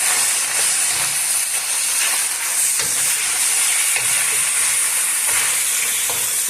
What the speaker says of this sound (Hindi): और इसको अच्छी तरह से फ्राई करेंगे।